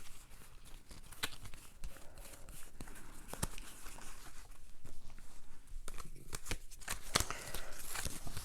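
Uno playing cards shuffled and sorted through by hand, a steady run of soft papery slides and crisp flicks with sharper snaps scattered throughout, close and fairly quiet.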